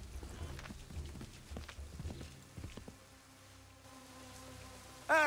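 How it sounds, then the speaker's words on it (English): Horse hooves in Assassin's Creed 3 give soft, irregular clip-clop thuds at moderate distance over a quiet ambient game backdrop, ending with a brief sharp louder sound. "Hey, it's a horse. It's a different horse each time."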